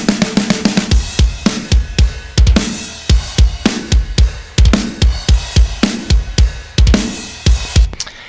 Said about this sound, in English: You can hear the cymbals are super subdued.